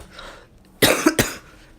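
Two close coughs from one person, loud and near, after a quiet stretch with no talk.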